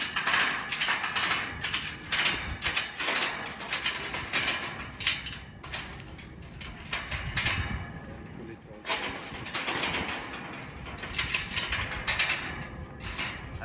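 A ratchet strap is cranked tight with rapid repeated clicking bursts from the ratchet mechanism, close and fairly loud, pausing briefly midway before more ratcheting resumes.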